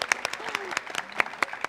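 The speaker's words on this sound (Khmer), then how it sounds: "សូមសំឡេងតាដៃមួយ" Audience applause at a TV show comes through as scattered, uneven claps from a small group, fairly close and moderately loud, over about a second and a half, with a voice speaking beneath it.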